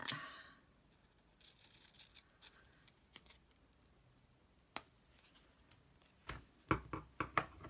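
Scissors snip through paper in a quiet room, with scattered soft cuts and rustles early on, then a cluster of sharper, louder snips toward the end, heard close and alone.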